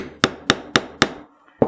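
A hammer taps an awl to punch a hole in thin metal for a hardware-store jewelry bracelet. Four sharp, evenly spaced metallic taps ring close and loud, and a fifth follows after a short pause.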